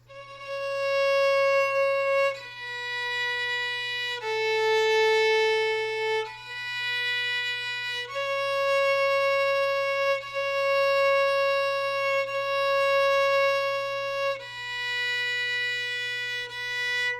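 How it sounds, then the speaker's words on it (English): A violin plays Mary Had a Little Lamb slowly in long whole-bow notes, each pitch held about two seconds with smooth bow changes, close and clear with a low steady hum underneath and no talking. "Just long bows on every single note."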